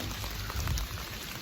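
Steady rain after a night of heavy downpour falls on surfaces outdoors in January, a dense, even patter close by with no voices.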